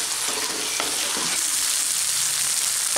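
Stuffing for stuffed snake gourd stir-fries in a pan over medium heat with chicken, giving a loud, steady, close sizzle with occasional scraping stirs and no voices.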